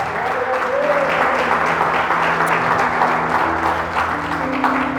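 A church congregation applauds during a sermon on the revelation of Scripture, giving sustained, even clapping that fills the room for several seconds, with a faint voice and low tones beneath it.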